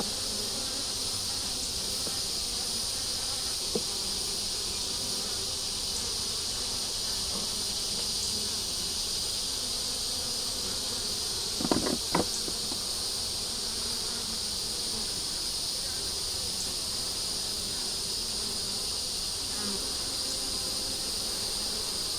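Honeybees carrying pollen and nectar buzz continuously around a hive box, a dense, even hum that stays constant throughout, broken by a brief knock or bump near the middle.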